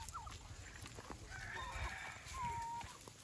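A black graft rooster crows at a distance amid farm ambience with other fowl clucking faintly, one drawn-out crow standing out near the end with no talking.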